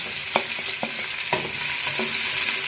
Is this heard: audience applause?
no